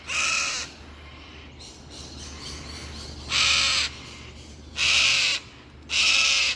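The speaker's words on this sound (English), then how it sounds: "He just flew at me like squawking his head off." A bird squawks as it flies at a climber and attacks the climbing rope, giving a few short harsh bursts followed by three loud, close squawks spaced about a second apart over steady outdoor background noise.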